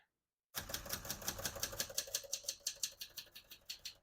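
A 1974 Adler Contessa portable typewriter is typed on up close, starting with a dense flurry of clacking keystrokes that settles into a steady, evenly spaced run of sharp strikes.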